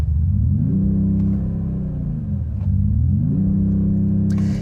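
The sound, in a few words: hybrid sedan engine starting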